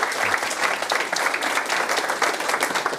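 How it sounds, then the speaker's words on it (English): Sustained applause from a university lecture audience for a speaker, dense clapping across the whole stretch at a steady, fairly loud level with no talk over it. "give a great Oglethorpe round of applause for our speaker"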